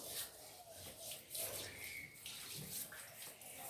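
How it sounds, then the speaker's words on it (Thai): A household tap runs weakly while a basin is washed, its thin, steady trickle of water faint and continuous throughout, with no voices. "มันไม่ไหลแรงเหรอ แม่เปิดไม่สุด"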